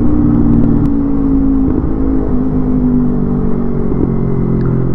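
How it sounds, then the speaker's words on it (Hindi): Motorcycle engine, a Kawasaki Ninja 300 or Mahindra Mojo on a highway, droning loud and close while passing under a bridge, with a steady echoing hum and a few small throttle changes, no talk. "जो बाइक की साउंड जो सराउंड हुई है ना, जो गूंजी है भाई"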